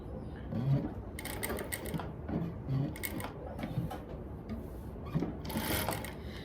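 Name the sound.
sewing machine stitching fabric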